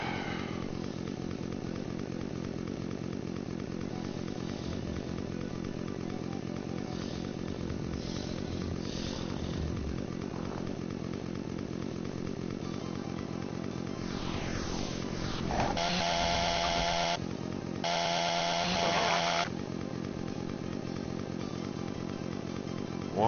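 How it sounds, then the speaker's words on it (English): The chainsaw weapon in Doom (FreeDoom) buzzes and revs almost without pause, with a louder, harsher burst of sawing near the end, over game sounds and no talk. "One time where it feels like I do need the fucking chainsaw."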